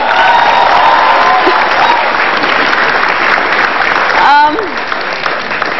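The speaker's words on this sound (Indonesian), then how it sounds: "Oke, tepuk tangan dong buat Pak Jokowi." A television studio audience claps loudly for Jokowi, a thick continuous burst of applause that fills the stretch, with a brief voice or whistle rising near the end.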